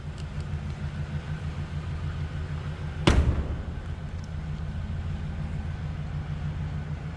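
A 1994 Cadillac Fleetwood Brougham's 5.7 liter V8 running at a steady low rumbling idle, with a sharp brief thump partway through before the even drone resumes; no one speaks.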